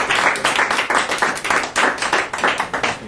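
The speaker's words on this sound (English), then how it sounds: "Give him a big round of applause." A small crowd claps steadily for a few seconds, a brisk round of applause without voices.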